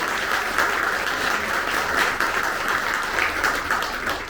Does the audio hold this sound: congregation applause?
yes